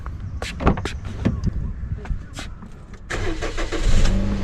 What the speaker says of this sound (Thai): เดี๋ยวฟังเสียงเครื่องยนต์กันนะครับ